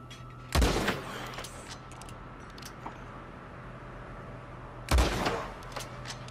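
Two loud, sharp sniper rifle shots in the video game Red Dead Redemption 2, about four seconds apart, each a sudden blast with a short echoing tail over a low steady background hum.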